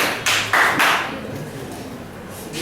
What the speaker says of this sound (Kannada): ಅದಕ್ಕೋಸ್ಕರ ನಿಮ್ಗೆ ಚಪ್ಪಾಳೆ ಹಾಕ್ತೀನಿ